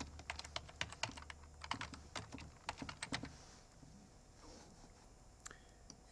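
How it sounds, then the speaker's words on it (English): Rapid clicking of keys on a computer keyboard as a school name is typed, close and crisp in quick irregular bursts, then fading to a few sparse taps amid quiet room tone. "Now I'm going to go ahead and type in the name of the school."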